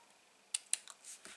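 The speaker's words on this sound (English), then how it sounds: "Just going to snip up at an angle." Scissors snip through card at an angle for a Stampin' Up! exploding card, giving two or three crisp, close, quiet clicks in quick succession.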